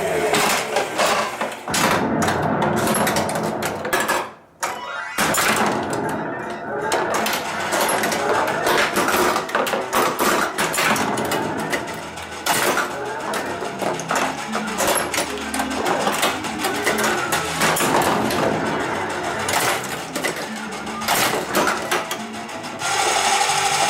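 A Twilight Zone pinball machine in play, with loud, continuous mechanical rattling, ball rolls, flipper thumps and game sounds, busy throughout with one brief dropout.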